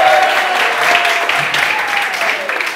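Crowd applause at a lively live show, loud and close, a broad wash of clapping and cheering with a faint voice or tone running underneath.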